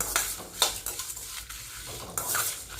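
Dry red chillies for a Tirunelveli spice powder roast in a pan, with a few sharp stirring scrapes and clinks over a faint, light sizzle, heard up close.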